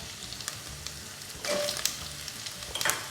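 Small shallots, halved and cooking in a pan until golden for a tamarind shallot curry, make a steady low frying sizzle with a few soft crackles and a brief stir or scrape near the middle.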